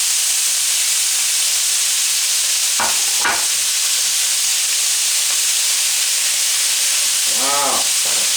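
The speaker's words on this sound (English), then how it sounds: "Getting a nice sear there. You can hear that sound." Roughly 3 pounds of cubed beef stew meat searing in a hot pan for a hearty stew, a steady loud broadband sizzle running throughout, with a few brief stirring clatters partway through and near the end.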